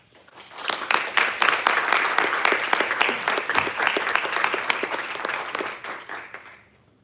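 Audience applause welcoming a speaker at a corporate presentation at RBS in London, a full, steady roomful of clapping that swells quickly, holds for several seconds, then tapers off.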